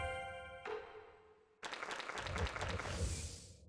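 A clapping emote plays in the online fighting game Naruto Storm Connections. A steady burst of game applause starts abruptly after a fading musical tone and continues on its own at moderate volume.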